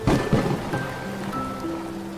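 Rain and thunder as a sound effect in a children's story about an elephant in a heavy rainstorm, with a low rumble and rain wash at moderate loudness, alone.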